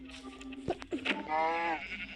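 A lamb in a farming video game lets out one drawn-out, wavering bleat, preceded by a few short clicks and thumps of game action, moderately quiet and with no talk.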